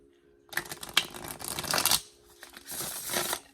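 A tarot card deck with ungilded edges is shuffled by hand, two bursts of quick riffling and card flicks close to the mic, the first longer with a short pause before the second, no talking.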